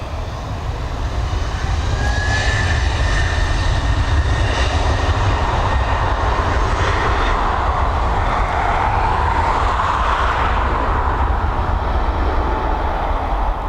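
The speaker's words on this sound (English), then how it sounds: "It's A320neo heading over to London Heathrow." An Airbus A320neo jet departs Dublin Airport on its way to London Heathrow. Its loud, steady engine roar holds for the whole stretch with a faint rising whine, heard from nearby without any talking.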